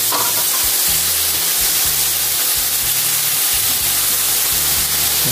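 Toast frying in a pan gives a steady, close sizzle and hiss that runs unbroken throughout, with faint low kitchen rumbles beneath and no talking.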